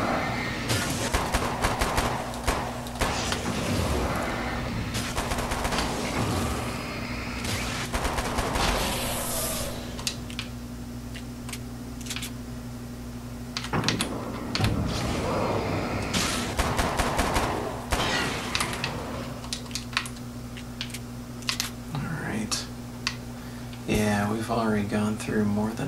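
Bursts of rapid submachine-gun fire ring out in Alan Wake's American Nightmare arcade mode on the Ghost Town map, repeated volleys over a constant game hum, with a player talking between and over the shots.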